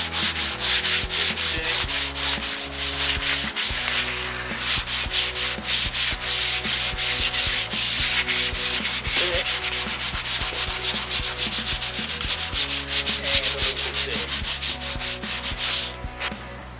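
Hand sanding of painted boat topsides with 400 grit sandpaper, loud rhythmic back-and-forth rasping strokes repeating steadily, close up and without talk.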